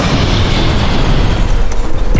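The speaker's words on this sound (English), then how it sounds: "a calm holiday weekend is shattered by a devastating explosion." Aeromexico Flight 498 explodes after crashing into a neighborhood east of Los Angeles in 1986, a loud, dense, continuous roar and rumble that fills the whole stretch without pause.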